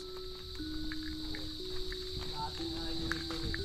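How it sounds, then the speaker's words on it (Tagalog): Crickets chirp steadily at dusk in a rural village, a continuous high-pitched insect drone with faint thin tones layered over soft background noise, no talking. "Sa ibang term, yung kuliglig."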